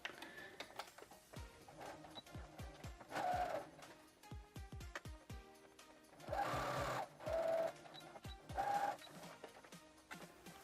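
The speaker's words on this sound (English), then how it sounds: "We're going to do a straight stitch just like we've been doing this whole time" A sewing machine running a straight stitch on fabric for shorts, in short bursts of fast mechanical whirring separated by quieter stretches of clicks and ticks from handling the fabric and machine, close and moderately loud.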